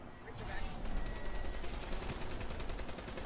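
Sustained automatic gunfire in a Black Ops 3 Nightmare Mode zombie match: a rapid, even stream of shots at moderate loudness that runs without a break.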